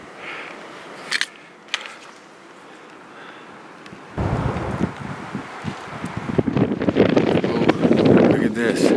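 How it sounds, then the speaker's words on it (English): Strong wind gusts over an exposed ledge at height, starting as a low steady rush and then swelling abruptly into loud buffeting roar against the microphone, with a couple of faint clicks early on. "I'm not comfortable on this ledge with that wind."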